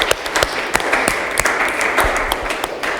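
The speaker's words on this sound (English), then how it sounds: "can we please give a round of applause in absentia?" Audience at a young researchers' award presentation clapping for a winner who isn't present, a steady spread of hand claps with a few sharper near claps standing out across the whole stretch.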